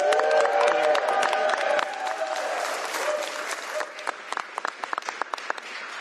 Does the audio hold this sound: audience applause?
yes